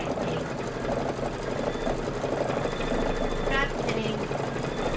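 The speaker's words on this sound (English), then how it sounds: "I'm just going to start grabbing pieces that fit together and just sewing them together" A domestic sewing machine chain-pieces quilt pieces with a fast, steady mechanical whir and rapid stitching rhythm, close and continuous, while someone speaks briefly over it.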